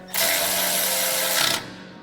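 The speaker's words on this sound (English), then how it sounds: "Start that bolt by hand. That's a 12 millimeter. We'll go ahead and tighten it up." A 12 mm bolt is tightened on a Toyota Tacoma wheel bearing hub, a loud, close, continuous mechanical whirring burst of about one and a half seconds that ends abruptly, with no speech.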